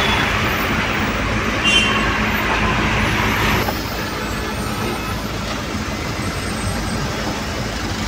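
Heavy road traffic jams a highway near Pen, with buses, cars and bikes queued in lines, a dense continuous roar of engines and tyres that dips slightly partway through, with no talking.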